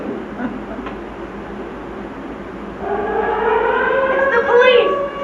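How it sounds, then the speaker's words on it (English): A police car siren rising in the distance, a wailing tone that swells over a rumbling background with a speaking voice. "It's the police! My dad said he was gonna get them."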